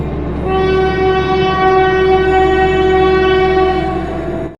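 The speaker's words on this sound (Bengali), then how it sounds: "হঠাৎ দূর থেকে ট্রেনের শব্দ।" A cartoon train rumbles steadily with a long, sustained horn blaring over it, loud and close, holding for several seconds before cutting off.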